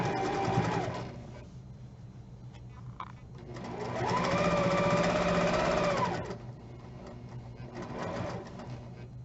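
A sewing machine back stitches through fabric while a triangle-shaped pillow is sewn, whirring steadily and close in a few runs, with a long stretch in the middle and shorter bursts before and after.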